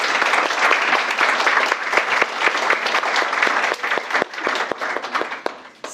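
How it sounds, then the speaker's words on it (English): An audience at a learner awards ceremony applauds the sponsors, a dense sustained wash of many hands clapping together, loud and even throughout, tapering slightly at the very end. "if we could just give all our sponsors a huge round of applause"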